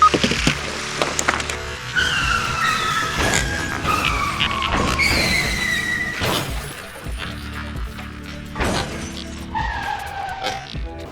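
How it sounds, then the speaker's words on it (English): LEGO cars race down boards on a driveway with a chaotic clatter of plastic bricks, repeated sharp cracks of pieces breaking apart and squeaky skids, loud and close, with no clear talking. "we're gonna race the cars from over there down to that last board over there"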